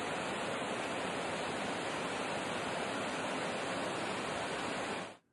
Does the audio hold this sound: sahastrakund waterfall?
yes